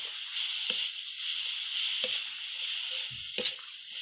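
Chili paste ingredients for a traditional Thai nam prik narok dry-roast in a pan: a steady, close hiss with a few soft scrapes and taps of stirring spaced through it, and no voices.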